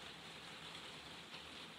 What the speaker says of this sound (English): So the rain is proper going for gold.